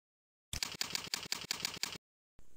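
About nine evenly spaced keystrokes on a computer keyboard while a password is entered, each a crisp close click in a quick steady run, then silence and a brief faint noise.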